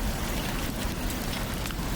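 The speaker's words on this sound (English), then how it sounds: "The sound of the hail on the roof of the shack was deafening." Hail hammers a shack roof during a southern storm in a loud, unbroken drumming roar that fills the space without pause.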